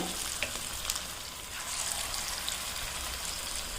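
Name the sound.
jackfruit seed vadas dropped into oil and frying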